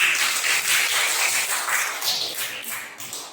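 A classroom of students claps together, many hands fairly close in a brisk, sustained burst that tapers off near the end, with no talking.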